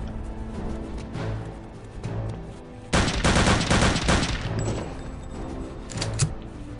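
Burst gunfire in the video game Return to Castle Wolfenstein: a dense rattling fusillade of rapid shots erupts midway and runs for about a second and a half, loud and close, with scattered quieter shots before and after.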